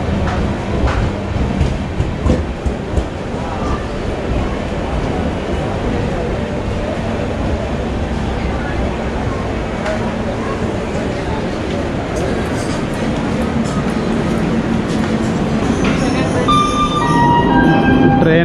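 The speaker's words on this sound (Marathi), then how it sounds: "ट्रेन आलेली आहे" The Mumbai Bandra–Surat InterCity Express arrives at a platform, a loud continuous rumble of rolling wagons with rail clatter, steady for the full length, with voices mixed in.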